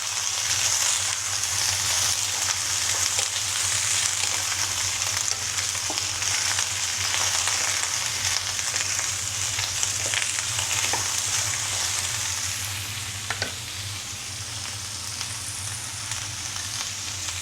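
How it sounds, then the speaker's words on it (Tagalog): Food sizzles steadily in a frying pan while being mixed, a constant crackling hiss with occasional faint scrapes of stirring, holding level before easing slightly toward the end. "Tapos i-mix lang natin siya."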